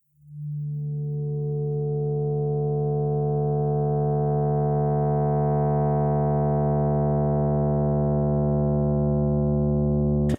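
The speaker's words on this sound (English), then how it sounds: "Then after that one I have this filter bass" A synthesizer filter bass plays one sustained low note that swells in and slowly brightens as the filter opens, holding loud and steady on its own.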